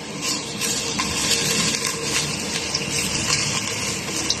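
Oil is poured out of a can of Spanish sardines for sautéing garlic in a home kitchen, a continuous close splashing trickle with faint clinks, no talking.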